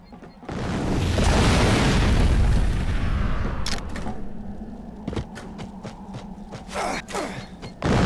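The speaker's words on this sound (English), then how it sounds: "These subsonic grenades. They're highly explosive and leave behind a crater." Subsonic grenades in the video game Fracture detonate against crates, giving a long, heavy booming rumble followed by scattered debris clatter and sharp clicks, loud and close, with no talking.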